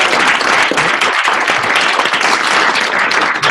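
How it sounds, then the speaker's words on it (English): Audience at a LinkedIn presentation giving the speaker a round of applause, loud close clapping from a packed room, dense and sustained with no break. "Let's give him a nice round of applause."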